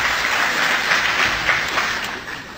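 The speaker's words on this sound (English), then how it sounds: "Please give a round of applause to yourself for this great achievement" Audience applause at a DXN company event, a steady wash of many hands clapping loudly throughout with no break.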